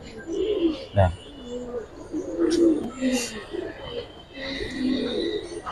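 Giribaz pigeons coo in soft, repeated low calls mixed with occasional chirps, heard beneath someone talking close by.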